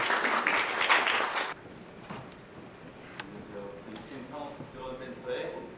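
An audience at a startup event gives a short burst of dense clapping that stops abruptly after about a second and a half, followed by a person speaking.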